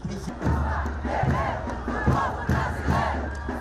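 A large crowd of Lula supporters in Sao Paulo shouting together in loud, rhythmic chanted bursts, dense and close with no break.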